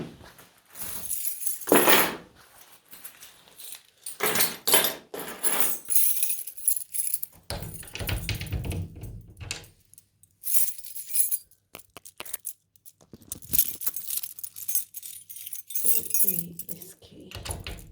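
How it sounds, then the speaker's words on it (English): Keys jangle and clink in repeated bursts while someone unlocks a locked house door, with brief pauses between rattles and some quieter sounds in the background. "door's locked, let's grab the keys"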